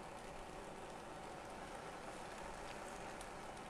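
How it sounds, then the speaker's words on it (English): Steady rain starting to fall outside a greenhouse used as a cold frame for seed starting, a dense even hiss of drops spread across the whole stretch with no talk. "It's starting to rain."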